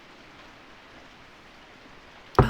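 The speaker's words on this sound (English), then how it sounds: "It was still pouring rain" Pouring rain in the video game Corpse Party: Book of Shadows, a quiet, steady hiss of rainfall held low throughout, ending with a sudden brief louder burst of sound.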